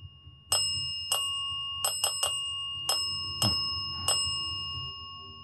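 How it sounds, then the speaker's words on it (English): A small bell, reportedly linked to a so-called haunted doll, rings in sharp bright dings, eight strikes at irregular intervals over a few seconds, each ringing out briefly with no talk. "Kendra, can you make the bell quit for just a minute?"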